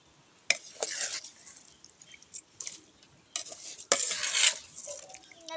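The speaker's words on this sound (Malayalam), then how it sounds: "1 കിലോ അരി ചേർത്ത് കൊടുക്കാം" One kilogram of rice going into a pot of mussel majboos brings short bursts of grainy rustling and metal clatter, separated by quiet pauses, with stirring and scraping against the pot.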